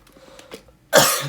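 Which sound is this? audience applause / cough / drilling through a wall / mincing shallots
cough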